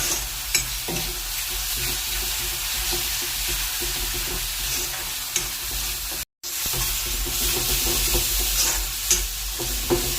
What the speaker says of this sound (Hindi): मैं इसे अब अच्छे से पकाऊंगी मसाले के